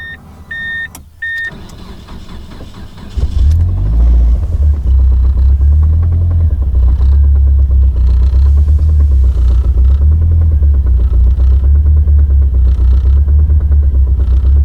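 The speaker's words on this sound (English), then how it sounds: "Let's give it a crank." A Mitsubishi Evo DSM 4G63 engine gets cranked. Dashboard chimes and a click are followed by the starter, then a loud, steady, close engine run that continues to the end, with no talk.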